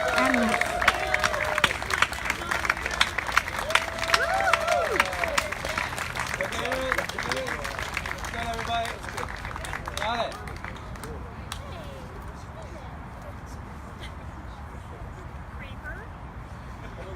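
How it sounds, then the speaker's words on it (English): A ceremony audience at Baltimore Clayworks bursts into a round of applause, dense clapping with some cheering that carries for about ten seconds and then fades into quieter room noise. "Okay, major round of applause."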